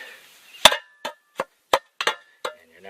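A shovel blade strikes hard, rocky ground in Canada several times while digging a privy pit, sharp dry impacts spaced roughly a third of a second apart, close and clear.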